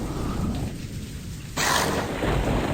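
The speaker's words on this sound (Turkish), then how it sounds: "nasıl fırtına nasıl yağmur" Heavy rain and a thunderstorm rumble in the horror video game House 2, a dense continuous wash of rain with a sudden louder surge partway through, no speech.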